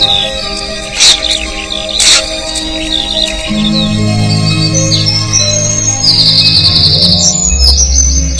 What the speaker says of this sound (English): Swallows have arrived.